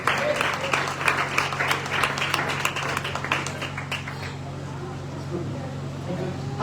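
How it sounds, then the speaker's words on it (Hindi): A church congregation applauds loudly with dense, sustained clapping through the first four seconds, thinning toward the end over a steady low hum, with voices mixed in. "आए खुदा के लिए जोरदार तालियां"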